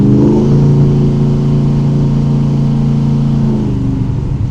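A 1968 Camaro Pro-Street with a naturally aspirated engine drones loudly and steadily, a deep close engine tone that shifts slightly as it downshifts a gear.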